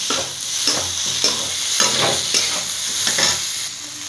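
A potato mixture with spices is stirred and cooked in a pan, with repeated scraping strokes in a steady rhythm over a constant close sizzle and no talking.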